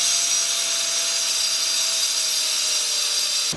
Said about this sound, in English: now we're gonna grind it out